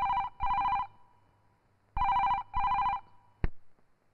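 A telephone rings in a classic double-burst bell pattern, two paired rings separated by a pause, then a click as the handset is picked up. It is clear and fairly close, with no talk.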